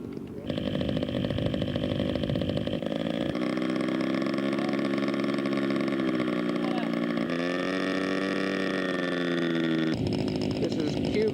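A Focke-Wulf 190 D9 scale model aircraft from a Greg Namey kit runs its engine at a scale aircraft show, a loud, steady buzzing drone whose pitch shifts up and down in stages, with voices talking over it throughout.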